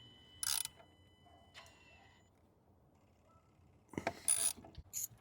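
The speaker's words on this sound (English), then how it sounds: "Then we're gonna take an 8mm socket and we'll pull this little bolt right off there." Ratchet turning an 8mm socket to back out a small coil pack bolt on a 2021 Ford F150 with the 3.5L engine, two short quick clicking bursts early, then a louder, busier rattle of clicks near the end.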